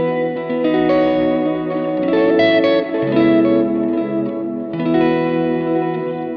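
Electric guitar through a Line 6 Helix with delay and ambient reverb effects, strummed chords washing and overlapping with echoing tails, steady and fairly loud with no talking.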